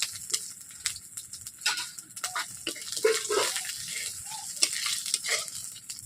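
Dried red chillies crackle and sizzle in hot oil in a pan, with soft stirring scrapes and bursts of spitting that rise and fall, fairly close and moderately quiet.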